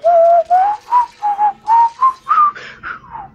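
A man whistling a short tune in the middle of a Dead Space gaming session: a string of about eight clear, loud, sustained notes, each separated by a brief pause, with no talking.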